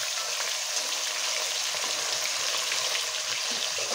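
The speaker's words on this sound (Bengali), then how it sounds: "মাছটা কিন্তু এক পাশ ভাজা হয়ে গেছে, আর উল্টে দেবো পরের পাশটা ভাজা করে নেবো" Pieces of rohu fish fry in hot oil with a steady, dense, close sizzle that holds level and unbroken throughout, with no voices.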